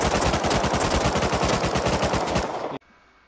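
Rapid automatic SMG fire in the video game Rust, a loud, close, continuous burst of evenly spaced shots lasting nearly three seconds before cutting off abruptly.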